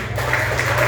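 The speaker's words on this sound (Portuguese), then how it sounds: "Tem palmas para o Senhor." A church congregation claps together in praise, a dense and loud burst of applause filling the room for a moment.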